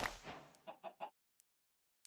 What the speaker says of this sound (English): Oh, I hear a chicken. There's a chicken.